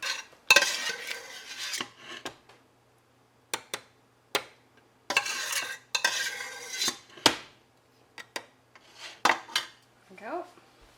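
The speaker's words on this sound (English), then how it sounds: "So now I'm just going to ladle it into my bottles." Hot rhubarb jam is ladled into glass bottles in a home kitchen, heard as a close run of clinks, ladle scrapes and knocks of metal on glass in short bursts separated by quiet gaps.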